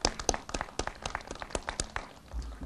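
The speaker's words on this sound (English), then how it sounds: "Let's give him a round of applause." An outdoor crowd at a church outreach center demolition event gives a modest round of applause, scattered distinct claps at a distance, fairly faint and thinning out toward the end.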